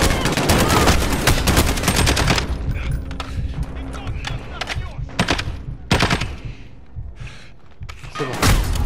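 Rapid automatic gunfire and sharp shots crack through a Call of Duty: Modern Warfare firefight, dense bursts near the start and end with scattered thuds between, with someone talking over the action.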